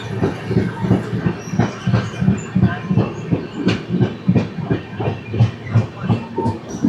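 The 02394 Summer Special sleeper train from Delhi to Patna runs on rails with a regular clickety-clack, repeated wheel-over-joint thumps in steady rhythm, heard from inside the carriage with no talk.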